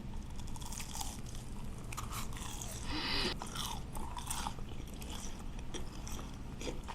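Crunchy fried meat with skin, eaten alongside mala tang, chewed up close in loud, repeated crisp bites and crunches that run steadily throughout.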